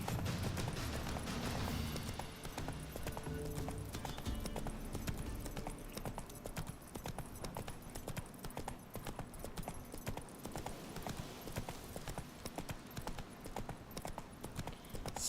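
Roach the horse gallops in Witcher 3, a rapid, continuous clip-clop of hoofbeats, loud and close, with faint game sounds underneath.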